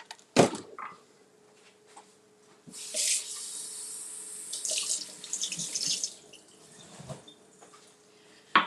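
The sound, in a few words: rinsing fruit under a running kitchen tap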